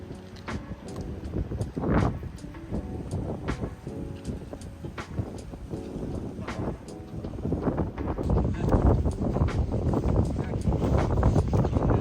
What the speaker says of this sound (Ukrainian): Вітряно, напевно, буде дощ.